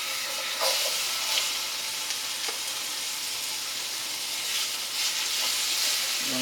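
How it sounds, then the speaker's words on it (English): Sweet and hot sausages browning in a hot pan for Sunday gravy, giving a steady, close sizzle and hiss with occasional small pops and crackles throughout. "Now I have the hot pan going over here, and what we're going to do is just brown everything"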